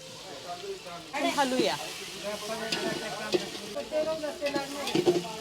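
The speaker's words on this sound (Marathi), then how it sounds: "आता थोडा आपण टेमेटो टाकूया आपण आता तो हलवूया" Onion and tomato frying in a pan over a wood-fired clay stove for a chicken dish, with close stirring scrapes and a soft sizzle while someone talks over it.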